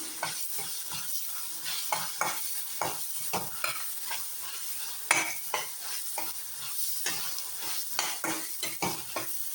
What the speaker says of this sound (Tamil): இது நல்ல எண்ணெயிலேயே வதங்கணும்.